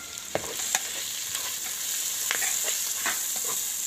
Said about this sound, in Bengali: ভালো হিট হচ্ছে, এবার একটু নাড়াচাড়া করা যাক।